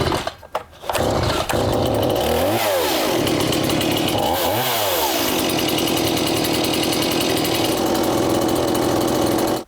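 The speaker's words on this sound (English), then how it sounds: "And we know the spark's good on this chainsaw because it will start." A chainsaw engine idles at a steady, loud drone, revving up twice in sweeping rises and falls before settling back into a constant running buzz, then cutting off at the end; no talking.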